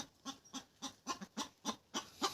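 A hen clucks in a farmyard poultry pen, a run of about eight short, evenly spaced clucks that sound fairly faint and close, with no talking over them.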